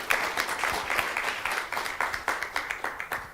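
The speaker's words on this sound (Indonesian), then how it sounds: "Tepuk tangan sekali lagi untuk Habibie Center." Audience applause for the Habibie Center at a commemorative event honoring BJ Habibie: a short burst of steady clapping from a crowd, thinning toward the end into separate, distinct hand claps.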